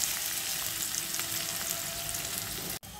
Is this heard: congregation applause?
no